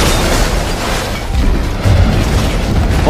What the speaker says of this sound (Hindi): तभी परमाणु बम का विस्फोट होता है।